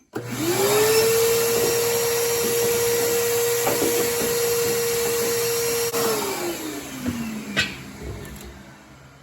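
Steady, loud roar of a vacuum cleaner sucking gunk from the bottom of a Geo Tracker fuel tank, running continuously nearby before winding down, with a few knocks near the end.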